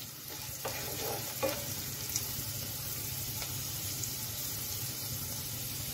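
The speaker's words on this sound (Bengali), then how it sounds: "সবজি কিন্তু হাই হিটে একটু ভালোভাবে ভেজে" Vegetables frying on high heat in a home kitchen pan while being stirred, giving a steady, moderately loud sizzle with a few brief scraping stir sounds near the start and no talking.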